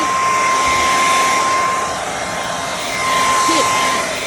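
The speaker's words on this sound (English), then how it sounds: "if you ever wanna use the hair dryer" A hair dryer blows steadily at close range, a continuous broadband whoosh with a faint tonal whine, used to heat out bed bugs and ants.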